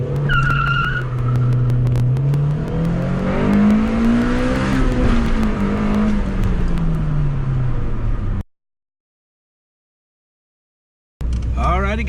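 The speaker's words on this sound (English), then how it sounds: "We'll try a little first gear launch, see how she does." A 1991 Honda Civic revs hard and launches in first gear, the engine note climbing and falling through a sustained loud run of about eight seconds, with squealing tires in the mix, then a gap of silence before a short burst of noise returns.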